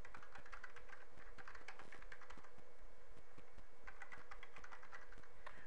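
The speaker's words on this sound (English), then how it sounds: "I'll now type in the switchport port security command." Steady, fast clatter of keys on a computer keyboard as a switchport port security command is typed into a network switch's interface configuration; clicks come in dense bursts with a brief lull midway, close and clear, with no talking.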